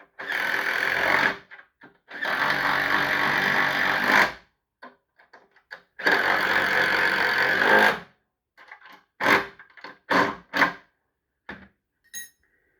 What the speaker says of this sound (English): Half-inch socket, half-inch wrench.